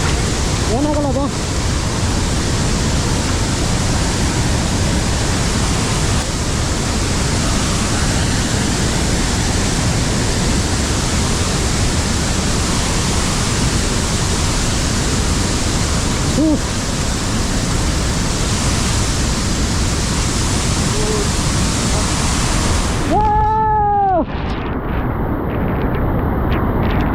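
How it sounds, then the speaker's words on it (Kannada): Water pouring down at Gaganachukki Barachukki waterfall near Kollegal, a loud, constant broadband roar filling the whole stretch without letup, with a brief whistle-like tone near the end. "ಈ ಥರ ಮಳೆ ಫುಲ್ ಆ ಕಡೆಯಿಂದ ಕೆಳಗಡೆ ಬೀಳ್ತಿರೋ ನೀರು"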